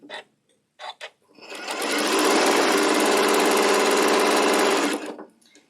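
Sewing machine stitching circles on a fabric table runner, starting after a few short taps and running fast and steady for about three seconds before slowing to a stop, close and loud.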